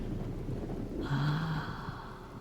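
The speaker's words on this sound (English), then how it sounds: "So let's enjoy the storm a moment." Thunderstorm with rain in the Diablo 4 video game, a steady rushing wash of rain with a low rumble of thunder swelling briefly in the middle.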